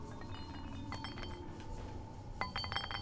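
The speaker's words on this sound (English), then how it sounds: "Now that sounded like glass." Glass clinks in Fallout New Vegas as objects are struck in a casino, a few sharp bright taps near the end over a steady low game-ambience hum.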